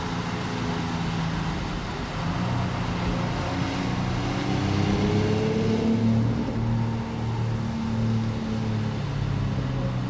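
A BMW X3 M50 crossover on an alpine mountain pass, its engine droning steadily from inside the cabin with rising and falling tones as the automatic gearbox shifts, a continuous close hum without talk.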